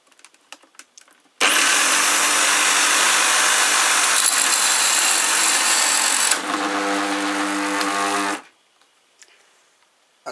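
A loud power-drill-driven shredder for 3D-printed parts roars steadily for several seconds, then jams, dropping to a strained, lower churning tone before cutting out abruptly.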